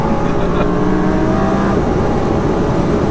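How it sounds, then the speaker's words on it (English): A 1200bhp twin-turbo Audi R8 accelerates hard in a third-gear pull, a loud continuous engine roar with rising tones heard from close up. "So we're dropping to a 3rd gear pull now"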